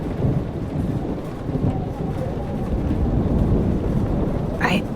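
A thunderstorm rages in the video game Life is Strange Remastered. Steady, heavy rain hisses over a low rolling rumble of thunder, and the roar stays dense and continuous throughout.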